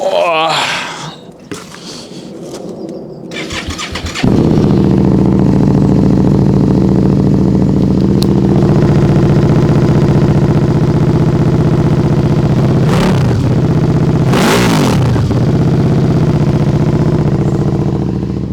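A motorcycle engine idles steadily at close range after a few seconds of clatter, with two short throttle blips rising above the idle toward the end.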